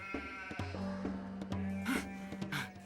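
Sheep bleat in a field: several sustained, wavering calls close by in quick succession, with a few soft rustles between them.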